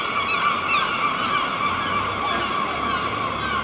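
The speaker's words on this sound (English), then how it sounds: "Seagulls." Gulls calling loudly and continuously over a steady outdoor wash of noise at Castlegate in Aberdeen, with overlapping raucous cries filling the whole stretch.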